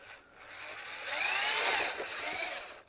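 A rotary hammer with a mixer paddle whirs steadily for a few seconds, its tone swelling and easing with a gritty, churning texture as a runny building mix is stirred.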